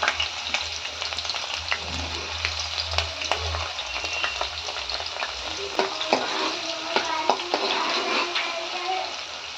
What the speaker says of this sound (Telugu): నూనె హీట్ అయ్యింది కదా ఇందులో పచ్చిమిర్చి వేసుకుంటున్నాను